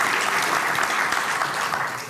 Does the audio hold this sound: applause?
yes